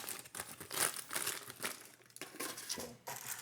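Parchment paper crumpled by hand in a kitchen while preparing seitan, giving dense, continuous crinkling and crackling bursts close to the mic, with a brief pause near the two-second mark before the crinkling resumes.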